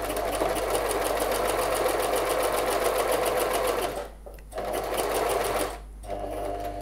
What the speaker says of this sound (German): Damit das Zipbändchen auch wirklich vollkommen aufgenäht ist, nähe ich gerne noch